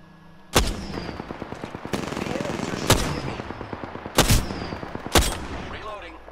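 Five loud, sharp gunshots from Apex Legends ring out at uneven intervals over a busy bed of lighter rapid fire and game effects, with faint voice chatter in the background.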